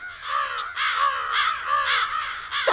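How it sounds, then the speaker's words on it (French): Cartoon crows caw repeatedly over a field in a steady run of harsh, close, loud calls, with no talking. "Il y a des corbeaux partout."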